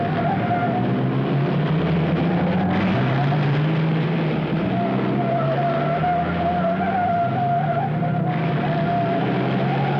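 Race cars brake and accelerate out of a hairpin turn, with engines droning and rising in pitch, tyres skidding and a loud, continuous roar throughout.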